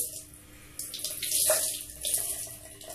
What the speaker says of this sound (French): je vais déjà pré-humidifier mon éponge pour qu'elle soit prête pour